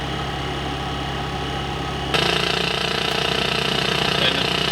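Simulated engine starter cranking on an ATC-810 IFR flight simulator, a steady droning whir that steps up abruptly in loudness and brightness halfway through, then holds a continuous rattling tone with no talk.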